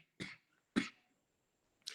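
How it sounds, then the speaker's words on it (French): Three sharp coughs from a person speaking in a room, spaced unevenly and fairly quiet, each a short explosive burst with no talk between them. "Excusez-moi, je tousse."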